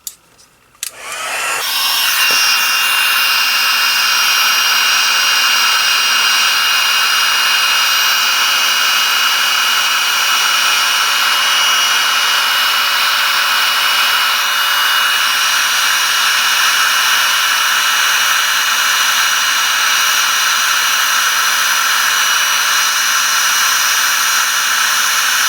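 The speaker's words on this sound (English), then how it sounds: "Turn on my heat tool. It's going to be a little bit loud." A heat embossing tool blows hot air over a stamped greeting card, a loud, steady whooshing hum that starts abruptly after a brief moment of quiet and holds unbroken for over twenty seconds.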